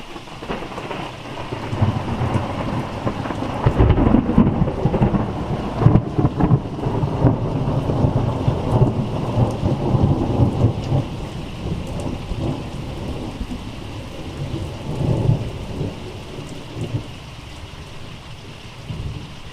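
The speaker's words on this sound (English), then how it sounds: "So yeah, the storm is here." A thunderstorm unleashes steady, heavy rain on surfaces, punctuated by loud rolls and cracks of thunder that swell and fade over nearly twenty seconds, with no voices.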